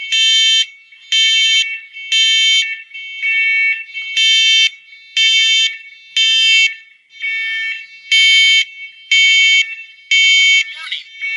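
A First Alert ONELINK smoke alarm, linked to an INSTEON Smoke Bridge 2982-222, sounds loud, piercing beeps at close range in a regular on-off pattern of roughly one-second bursts, with a brief spoken announcement between tones.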